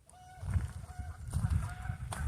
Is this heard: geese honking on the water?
yes